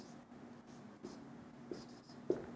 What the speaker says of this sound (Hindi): और अगर मैं ये लिख दूँ